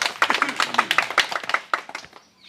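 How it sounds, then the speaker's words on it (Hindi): An audience at a stage performance claps in quick, fairly even beats for about two seconds before the applause trails off to quiet. "एक बार तालियां बजा दीजिए सब लोग फिर से"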